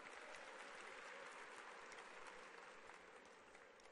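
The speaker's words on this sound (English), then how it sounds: "Please give all them a round of applause." Audience applause at the 2015 Fort Lauderdale JCC Maccabi Games opening ceremony, a dense, continuous wash of many people clapping in a large hall, steady and sustained throughout.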